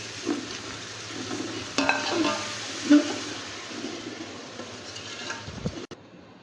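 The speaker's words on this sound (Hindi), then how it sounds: "अब इन सबको इसमें शामिल कर लेते हैं। अच्छी तरह से भून लेते हैं।" Whole spices and masala for chicken tikka biryani fry in a pan with a soft, continuous sizzle, punctuated by a few clacks and scrapes of stirring against the metal and a louder clatter near the end; no talking.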